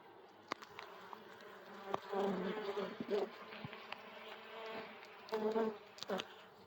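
Honeybees from a three-week-old colony, started from a swarm, buzz steadily around the hive, a dense close drone that swells and fades in a few louder bursts. No one speaks.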